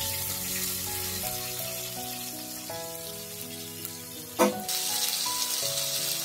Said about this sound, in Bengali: এরপর কেটে রাখা টমেটোগুলো দিয়ে দিলাম। টমেটোগুলো একটু নরম করে ভেজে নিতে হবে।